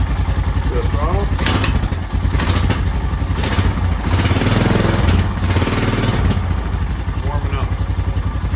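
Engine of a 1998 Honda 450 motorcycle, just back from carburetor repair, running rough and loud with the throttle blipped several times, a voice speaking over it.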